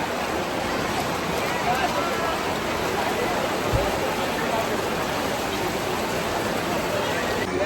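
Heavy, steady rain pours down during a Durga idol immersion, a dense continuous hiss of water filling the scene from start to finish with no letup.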